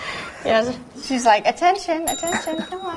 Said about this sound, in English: I'm sorry, that was the cat ringing the bell.